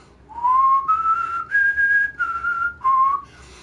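A person whistling through the mouth, a clear tune of four or five sustained notes stepping up and down in pitch, separated by short breaths, loud and close with no talk.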